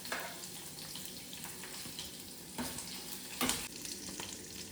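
Curry leaves hit hot oil after mustard seeds have spluttered, giving a soft, continuous sizzle with a few brief crackling bursts, faint and close with no voices.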